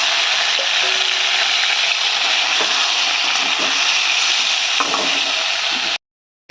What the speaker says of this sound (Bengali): আলুটাও দিয়ে দেবো একটু ভাজা হয়ে যাবে আলুটা